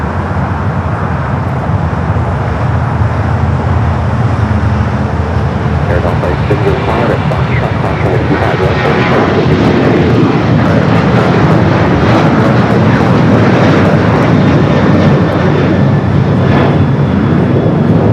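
A jet airliner takes off from Los Angeles International Airport, its engines a loud, steady roar that builds and holds for the whole stretch, with faint radio chatter underneath.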